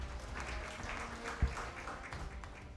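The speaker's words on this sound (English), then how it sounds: "a round of applause" A school audience at a national junior debate contest briefly applauds a team's score. The clapping is short and fairly faint, muffled under the room's background noise.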